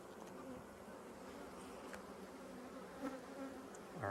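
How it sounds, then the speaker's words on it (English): Honey bees in an open beehive during a fall inspection, a steady close buzzing drone that holds without a break, with faint handling noises near the end. "there's more bees in here than I was expecting."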